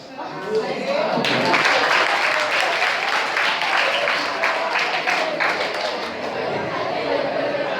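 Audience applause for Kasim Vali at a goal-setting session, a dense burst of many hands clapping that starts just after the first second and continues steadily to the end, with crowd chatter mixed in.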